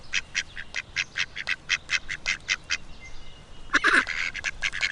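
A duck quacks in a rapid, rhythmic run of a dozen or so close calls, then pauses briefly before a louder, harsher burst of quacking, with no voices present.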